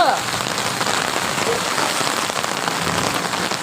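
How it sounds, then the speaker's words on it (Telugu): Steady rain falls outdoors where children are playing, a loud continuous wash of drops drumming on surfaces throughout. "వర్షంలో తడుస్తా లోపలికి వెళ్ళు"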